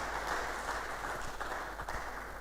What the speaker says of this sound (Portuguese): Uma salva de palmas, Senhor Jesus.